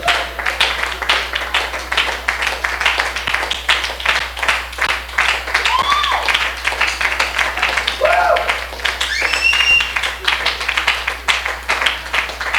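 An audience claps along at a dinner event in Washington, USA, a steady rhythmic patter that runs throughout under a loud voice talking over it.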